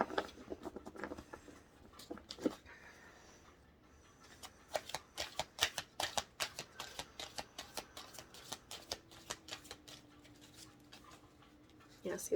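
A deck of tarot cards is shuffled by hand in rapid bursts of crisp riffling and patting clicks, close and quiet, with a person speaking softly now and then.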